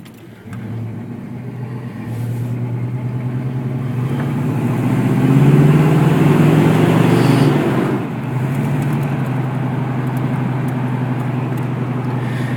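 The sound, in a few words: 1980 Pontiac Trans Am engine running and revving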